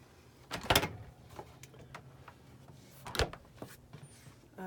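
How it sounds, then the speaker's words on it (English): Pull-out pantry drawer in a 1997 Fleetwood Pace Arrow 32G motorhome sliding on its runners, two quick rolling-and-thud bursts a few seconds apart with faint clicks between, close by in a quiet interior. "There's a pull-out pantry here for cans and that sort of thing, which is really convenient. Just slides out."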